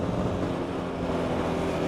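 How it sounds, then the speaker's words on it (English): Steady wind roaring across the microphone on a cool mountain road in northern Peru, a continuous broadband rush with no clear gusts, close and fairly loud, with no voices. "It's also quite windy."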